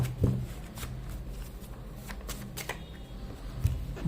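Tarot cards shuffled and drawn during a reading, heard as a quiet run of papery riffles and soft card flicks with a few brief louder snaps, close and alone.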